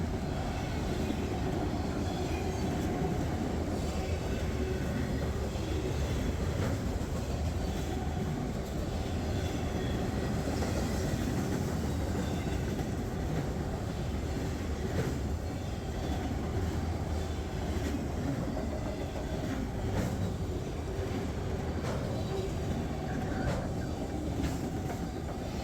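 Freight train of manifest cars and autoracks passing close by, a continuous loud rumble with steady rhythmic clickety-clack of wheels over rail joints throughout.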